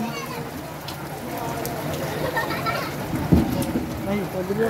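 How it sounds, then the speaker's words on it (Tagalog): Steady rain pours down with a constant wash of noise, with a voice talking under it and a soft thump partway through. "Medyo mimpis na yung tubig pero ang ulan tuloy pa din."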